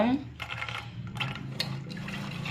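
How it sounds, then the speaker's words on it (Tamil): Water splashes and pours into a vessel of soaked raw peanuts to cover them before boiling, a steady rushing fill heard close under a person talking. "கடலை முங்குற அளவுக்கு நீங்கள் தண்ணி சேர்த்துக்கோங்க"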